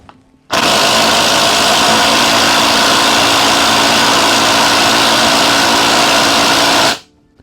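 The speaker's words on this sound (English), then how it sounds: "I'll put it to setting 2 on the impact, and then I'll do that and show you that speed" A Ridgid subcompact impact wrench on setting 2 drives a bolt in one loud, continuous high-pitched whirring burst of about six seconds that starts and stops abruptly, with no talking.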